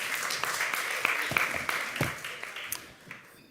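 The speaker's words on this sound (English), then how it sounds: "We're allowed to clap as well." Conference audience applauding, a dense patter of clapping from many hands that starts at full strength and gradually thins and fades over a few seconds.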